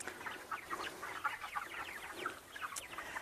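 Pastured broiler chickens cluck softly in a flock, with many overlapping short calls at a moderate distance and no talking.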